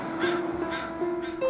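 A crow in Vancouver, BC calls out nearby in three loud, evenly spaced caws, harsh and raspy, with a steady low hum running underneath.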